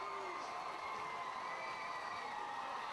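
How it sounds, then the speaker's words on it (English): Crowd at a Fontainebleau High School football game against Lakeshore High, the cheering section roaring and whooping steadily from a distance throughout, a dense sustained wall of shouting voices with no break. "And the Fontainebleau cheering section is going crazy"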